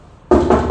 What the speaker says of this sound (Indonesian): Mengetuk pintu pun nggak boleh begini.